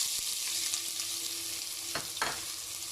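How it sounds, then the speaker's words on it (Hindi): Chopped onion frying in oil over a medium flame, a steady close sizzle throughout with a couple of brief stirring scrapes near the end and no talking. "मीडियम फ्लेम पे मैं इन्हें फ्राई कर रही हूँ, और जैसे ही चटक पटक की आवाज़ आनी शुरू हो चुकी है"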